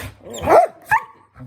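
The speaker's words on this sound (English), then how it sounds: "Why is one growling and one's barking?" Two dogs play-fight, one growling and one barking, giving a couple of close, sharp barks and growly yips in quick succession within a second or so, with no talking.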